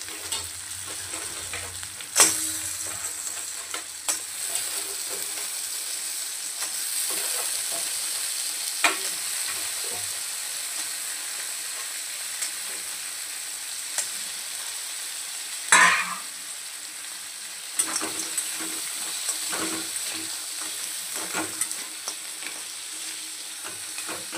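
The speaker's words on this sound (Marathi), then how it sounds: "आणि यामध्ये आता आपण साफ केलेले आपल्याला खेकडे टाकायचे।" Cleaned crabs frying in a pan for a crab curry, with a steady sizzle and repeated scraping stirs and clattering knocks from the spoon, close and fairly loud, no talking.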